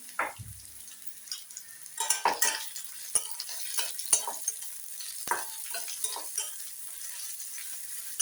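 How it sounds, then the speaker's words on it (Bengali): Onion with grated ginger and a pinch of salt fries for masala oats while a spoon stirs it, giving a faint sizzle broken by irregular close scrapes and metallic clinks against the pan, with no talking. "পেঁয়াজটা মিনিট 2 একটু ভেজে নিয়ে আমি বাকি ভেজিটেবলগুলো এর মধ্যে দেবো।"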